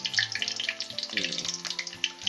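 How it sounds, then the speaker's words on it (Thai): Garlic-and-pepper marinated pork, coated in batter with coriander root and salt, deep-frying in a wok of modest oil, giving a steady close-up crackling sizzle with faint tonal sounds in the background. "เราเอาหมูลงไว้ทอดแล้วนะครับ"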